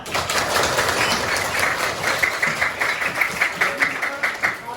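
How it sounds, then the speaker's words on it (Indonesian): Audience applause at a school talk on Minangkabau history, dense clapping from a crowd that swells into rhythmic, near-unison claps toward the end, loud and close with no talk over it. "Tepuk tangan semuanya"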